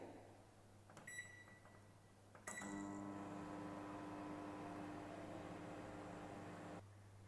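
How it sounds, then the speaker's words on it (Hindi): A couple of electronic beeps, then a microwave oven hums steadily for several seconds while heating a towel before the humming cuts off. No one speaks. "माइक्रोवेव में रखने के बाद आप इसे एटलीस्ट 1 मिनट के लिए गर्म कीजिए।"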